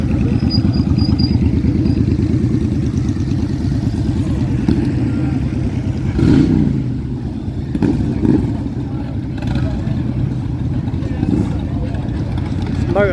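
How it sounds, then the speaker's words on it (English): Motorbikes and cars pass along the road at Box Hill on a busy Sunday, a steady close engine drone rising and falling as machines go by, with brief louder surges and some background voices. "Motorbike heaven here."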